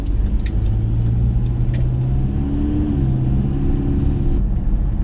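A diesel truck pulls away on a long road trip, a steady loud engine rumble with low droning tones and a brief rise in pitch as it gets moving, no talk over it.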